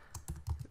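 Short burst of typing on a computer keyboard, four or five quick distinct key clicks in an uneven rhythm, close and fairly quiet.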